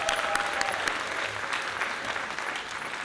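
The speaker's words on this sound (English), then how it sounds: "Let's give them another round of applause." Audience at a 2017 graduation ceremony for Creative Arts Morgan Village Academy breaks into loud, sustained clapping from a crowd, steady throughout with faint cheers mixed in.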